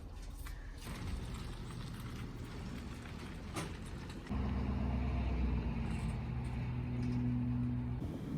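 An RV pulls away onto the road, its engine note rising into a steady, louder drone with a low hum as it gets under way, over faint background noise.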